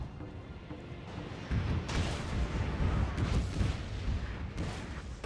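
Armstrong guns fire in the strategy game Fall of the Samurai, heavy booming artillery that kicks in after a quieter start and rolls on as a dense, rumbling barrage of overlapping blasts.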